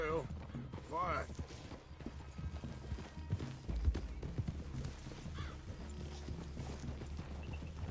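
Horses walk in Red Dead Redemption 2, with irregular hoof clip-clops, a snort and a whinny near the start, while characters talk quietly over the hooves.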